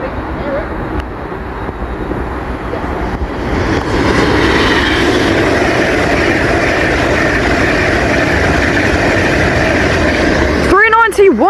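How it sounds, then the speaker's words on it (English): An Avanti West Coast Pendolino running from London Euston to Manchester Piccadilly passes through Milton Keynes Central station, a sustained roaring rush that swells and holds loud, ending with a sweeping whine, while a voice talks over it. "the next train to appear from behind the platform buildings will be an Avanti West Coast Pendolino bound from Manchester Piccadilly"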